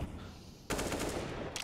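An AK rifle in Counter-Strike fires a dense, loud automatic burst of gunshots that starts abruptly partway through and carries on to the end, with no voices.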